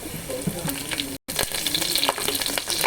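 Onions sizzle and crackle in hot oil in a pan for bagara rice, a loud close hiss with stirring scrapes and one brief dropout midway.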